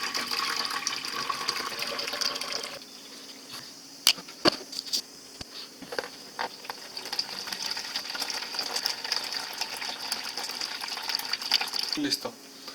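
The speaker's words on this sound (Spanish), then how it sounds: "Vamos a drenar completamente el agua que se encuentra a su interior." Water drains from a reverse osmosis purifier tank in a continuous hiss and trickle, fairly quiet, broken by a few sharp clicks and knocks.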